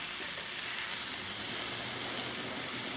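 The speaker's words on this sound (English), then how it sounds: "Got me some potatoes and onions going." Potatoes and onions fry in a pan on a wood stove, giving off a loud, continuous sizzle with a dense crackle close by and no talking.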